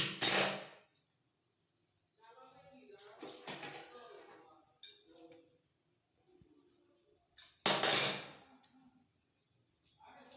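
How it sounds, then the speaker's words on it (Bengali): Two cardamom pods are crushed for a vermicelli milk pudding, giving two sharp crunching bursts at the start and later, with quieter rustling handling sounds between. "দুধের মধ্যে আমি 2টো এলাচ থেতো করে দিয়ে দিই"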